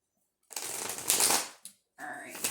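Tarot cards shuffled by hand in a few close, crisp bursts: a long riffling rush, a brief flick, then another run of papery shuffling, with no talk over it.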